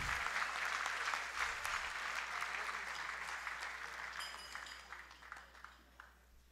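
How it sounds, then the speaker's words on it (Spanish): Sustained audience applause for award winners at a ceremony for a Peruvian copper corporation branch, dense and steady before gradually thinning and fading toward the end. "Felicitaciones, un aplauso por favor para ellos."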